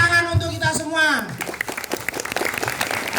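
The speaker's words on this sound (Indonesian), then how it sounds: "Tepuk tangan untuk kita semua." An elementary school audience at an Isra' Mi'raj commemoration bursts into clapping right after a voice finishes speaking, the applause a dense, steady patter that carries on to the end.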